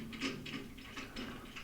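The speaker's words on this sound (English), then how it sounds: "tilt the table up and tighten that back down so it stays there" A saw's tilted table is locked in place by tightening its knob, producing several quick ratcheting, gear-like mechanical clicks in short bursts, close and fairly quiet, with no talking.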